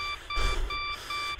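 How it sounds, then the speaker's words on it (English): Repeating electronic alarm beeps from the office in the video game Jolly 3, Chapter 2, a steady sequence of high, even tones with short gaps, loud and close, with a low rumble underneath. "That's gonna beep for the rest of the night!"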